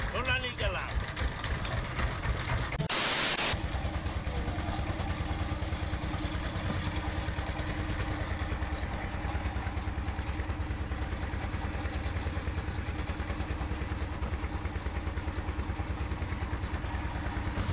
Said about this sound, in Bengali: আমাদের এই যে নৌকাটা, এটা সামনের দিকে এগিয়ে চলছে আমাদের গন্তব্যের দিকে